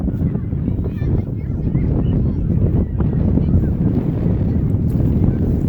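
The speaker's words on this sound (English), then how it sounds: "Video's really windy." Constant heavy wind buffeting the microphone at an outdoor kickball game, a dense low rumble that fills the whole stretch without letup.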